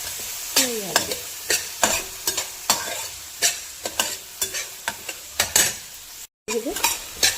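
Chopped vegetables for street-style pav bhaji frying in ghee, with loud, irregular scrapes and clanks of a spatula stirring against the pan over a steady sizzle, no voices.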